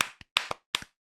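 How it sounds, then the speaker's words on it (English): A soundboard applause effect comes through as three separate, sharp hand claps, close and fairly loud, spaced roughly evenly with brief silences between them and no voices. "Dude, where's the applause?"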